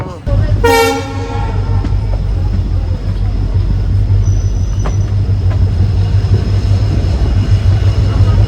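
The Velankanni Express runs near Sivakasi station in Tamil Nadu, heard from a general-class coach: a loud horn blast near the start, then a steady, heavy rumble of the moving train that continues to the end.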